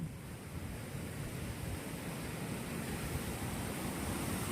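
A swollen river surges hard beneath a bridge during a typhoon, a steady, broad roaring rush of water mixed with wind noise, constant and moderately distant, with no voices.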